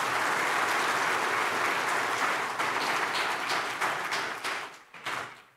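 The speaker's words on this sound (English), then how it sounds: "So I request all of you to give a huge round of applause to them." A large audience applauds award finalists at a global nursing awards ceremony, a dense, loud wash of clapping that holds steady and then thins and fades toward the end.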